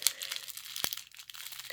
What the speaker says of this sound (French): je vais commencer par déballer l'aimant correspondant